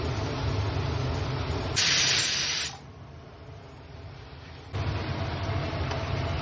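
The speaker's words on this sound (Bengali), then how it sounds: "ভালো করে মশলাটা কষিয়ে নেব। এতে আছে পেঁয়াজ টমেটো আদা।" Onion, tomato and ginger spice paste frying in a pan with meat masala, a steady sizzling hiss throughout that briefly sharpens into a louder spitting burst, then settles back to an even crackle.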